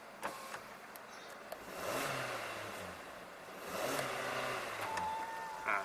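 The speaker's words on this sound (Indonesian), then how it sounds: "Sekalian saya tes untuk gas." A Suzuki XL7 Alpha automatic engine revs up twice as the throttle is pressed, rising in two swells from a quiet idle, heard from inside the car with no talk.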